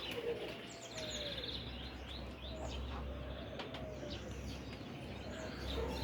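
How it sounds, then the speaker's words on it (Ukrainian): Pigeons of an old white breed coo softly in a loft, with scattered chirps and a brief flutter of wings over a low steady background hum. "Голубів цих знаю, голуби провірені."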